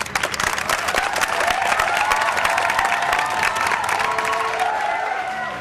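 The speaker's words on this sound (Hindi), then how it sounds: "और ठोकर ताली कांजी भाई के लिए" Crowd applause and cheering from a large gathering of villagers, dense and sustained clapping throughout with rising shouts and whoops mixed in, loud and continuous.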